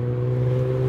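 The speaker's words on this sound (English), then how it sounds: "I would love you to drive in circles more." A car driving in circles, its engine giving a steady, close low drone with an even hum and no change in pitch.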